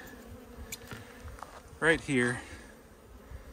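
Honeybees hum steadily around a swarm trap bucket being rehomed, a soft close buzz continuing throughout while a person speaks briefly in the middle.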